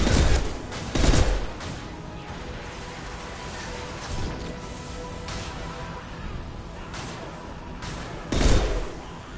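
In Mass Effect 2, the concussive shot ability fires as three heavy, booming impacts spaced a few seconds apart, set against a continuous rumble of battle noise.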